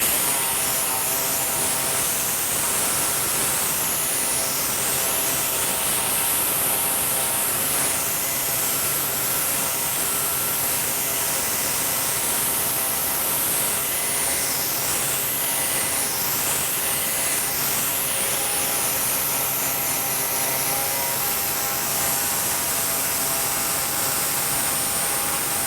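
A DA sander polishes a metal-forming hammer at 1,000 grit, a loud, steady, continuous whir with a dense high hiss that runs unbroken and close throughout, with no talking.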